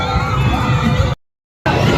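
Dense crowd noise fills a busy fairground, a loud steady roar of shouting and children's voices that cuts out abruptly for about half a second before returning at full level.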